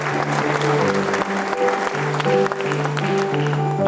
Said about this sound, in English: Shall we welcome them with a big round of applause?